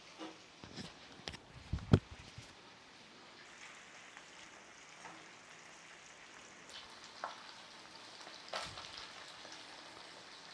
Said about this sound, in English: the skins a couple of times so they crisp up and all the oil is extracted into the pan